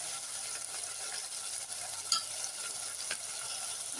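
Turmeric stirred into tomatoes frying in a pan for saag, a soft, steady sizzle with faint scraping and a couple of light clinks, fairly quiet and close, with no talking.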